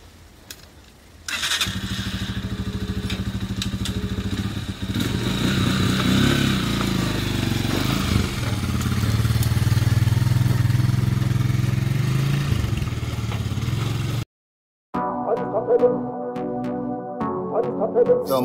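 A motorcycle engine starts with a short crank, then settles into a loud, steady idle with some throttle swells before cutting abruptly, followed by music.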